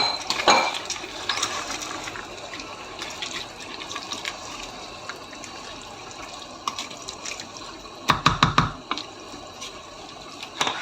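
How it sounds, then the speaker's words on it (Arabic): Strained lentils tipped into a cooking pot, wet splashing and liquid pouring with metallic clinks of the pot, a brief burst early and a louder clatter near the end, close and without speech. "غادي نرمي العدس، صفيته غادي نرميه"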